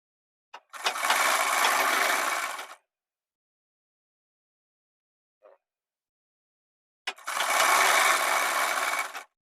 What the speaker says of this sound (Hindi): इसको लब की सिलाई से हम पक्का कर लेंगे।